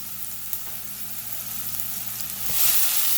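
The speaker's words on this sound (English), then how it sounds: "All this fresh season to the pot." Fresh seasoning sizzling in a pot of callaloo and saltfish rice, with a steady frying hiss that grows louder and brighter near the end as it is stirred, plus a faint low hum underneath.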